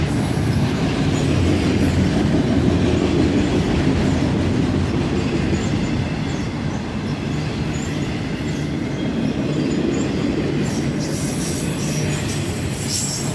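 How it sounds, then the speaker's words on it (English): Southbound CSX autorack freight train fully loaded with vehicles, rolling past below full track speed; a loud continuous roar of wagons with clickety-clack and recurring wheel squeal throughout. "This southbound autorack train was fully loaded with vehicles"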